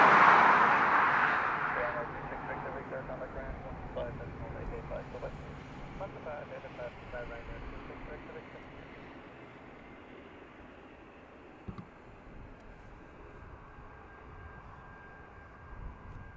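A Ryanair jet lands at Dublin Airport, a broad engine roar that is loudest at the start and fades into a steady distant rumble with faint radio chatter beneath.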